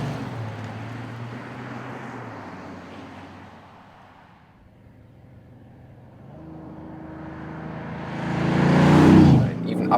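An Audi S6 Avant engine swells as the car accelerates hard uphill, the drone fading low mid-way then building to a loud, rising roar near the end, heard from inside with road noise.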